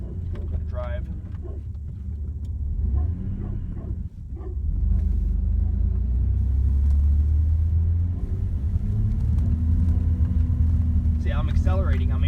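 A 1994 Dodge Dakota pickup with a transmission fault pulls away and accelerates, its engine a low steady rumble that rises slightly partway through, with someone talking over it and a brief bark in the background.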